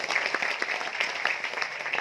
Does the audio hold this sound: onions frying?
no